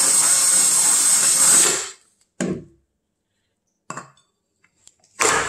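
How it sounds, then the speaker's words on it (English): A power drill briefly whirs loudly as it drills out a soldering iron cap, then stops, followed by a few short clinks and mechanical taps of handling the part. "It looks like we just need to drill it out just a little bit more."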